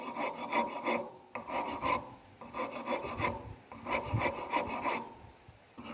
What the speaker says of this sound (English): Using both the rounded side of the rasp and the flat side